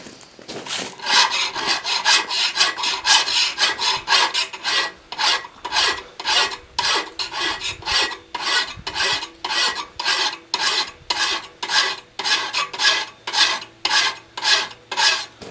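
Hand file rasping across the bevel of a forged steel woodcraft tool blade, steady back-and-forth strokes in a regular rhythm, close and fairly loud with no talking.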